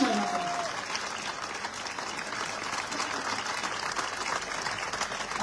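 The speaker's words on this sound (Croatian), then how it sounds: "Možda će na aplauz." A concert audience for Jasna Zlokić's show "Povedi me" breaks into dense, sustained applause that holds steady and close for the whole stretch, with a brief high tone sounding at the very start.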